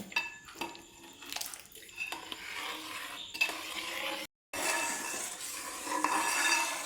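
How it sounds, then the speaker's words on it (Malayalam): Payasam with coconut milk being stirred in a pot, a spoon scraping and clinking against the metal with soft liquid sloshing, steady and close, with one brief dropout. "ഇളക്കി യോജിപ്പിച്ചെടുക്കാം."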